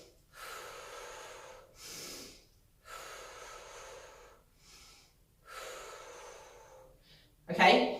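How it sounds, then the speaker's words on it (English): A person exhales in slow, audible breaths while performing a Palloff press core exercise, with several soft breathy bursts separated by pauses and a sharper, louder breath near the end. "breathing out as I push forward"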